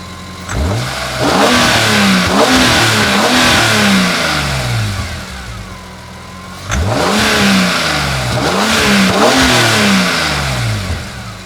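BMW E46 M3 engine revved from idle in repeated rising bursts, held just under 6,000 rpm, falling back to idle between two clusters of revs, loud and close from the front of the car, with no talking.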